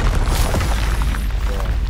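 Confringo fire-blast spell going off in the video game Hogwarts Legacy, a loud booming explosion sustained over two seconds amid dense battle noise.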